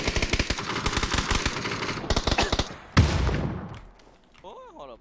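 Rapid bursts of automatic gunfire in the battle-royale game PUBG, loud and close, with a sharp shot near the end and fainter distant shots, while players talk excitedly over it.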